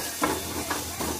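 Onions sauté in oil in a kadai with a gentle sizzle and hiss, and a few soft stirring scrapes come at a steady pace.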